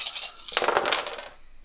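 A big handful of dice is rolled for a Warhammer Age of Sigmar tabletop game, making a loud, dense clatter of plastic on a surface that rattles for over a second, then trails off.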